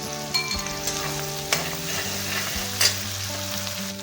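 Onion with crushed green chili frying in a pan for a shrimp and pumpkin stir-fry: a steady close sizzle with occasional stirring scrapes and clinks, no voices.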